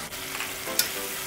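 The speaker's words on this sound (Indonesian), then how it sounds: "Aduk-aduk merata sampai semuanya tercampur." Sliced carrots, cauliflower and long beans sizzle and crackle in a hot wok while being stirred, with a sharp scrape of the utensil partway through.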